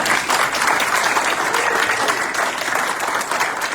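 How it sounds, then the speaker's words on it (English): Dense, steady applause fills a hall at a 2026 resident graduation ceremony, many hands clapping loudly and continuously from start to finish with no voices rising above it. "please clap"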